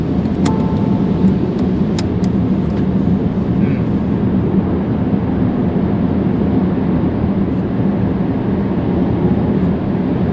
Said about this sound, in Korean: 지금은 터널인데 터널 안에서는 제법 그래도 바깥 소리가 들어오네요